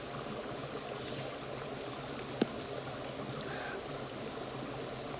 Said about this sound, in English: Water's running all around me.